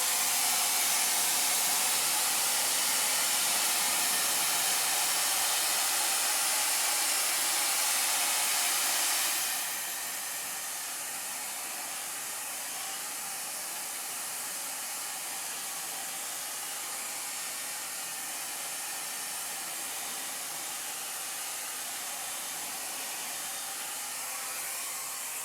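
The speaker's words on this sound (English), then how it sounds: "If you are at home and you have a hair dryer, you can dry it, which is what I'm going to do" A hair dryer runs steadily with a loud, broad rushing hiss. Partway through it drops to a lower, slightly quieter setting and keeps blowing evenly to the end, with no voices.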